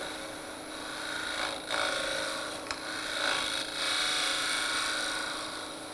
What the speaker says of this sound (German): Ich richte das Holz aber trotzdem noch mal eben ein bisschen ab hier stirnseitig.